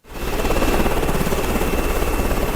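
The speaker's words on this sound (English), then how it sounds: "This footage was shot from a helicopter hired by the Final Call newspaper" Helicopter flying over the flood-devastated Lower 9th Ward of New Orleans after Hurricane Katrina, its rotor thrum and engine roar rising quickly and then holding steady, loud and close.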